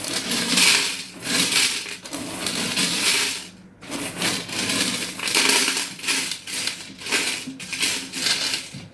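Loose gravel rattles and crunches as it is scraped and spread around inside a fish tank, a dense gritty shuffling with a brief pause midway.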